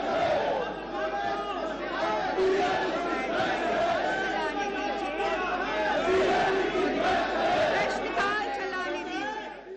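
Uproar in a parliament chamber: many voices shouting slogans and arguing at once, a dense, loud, continuous crowd din with overlapping raised voices throughout.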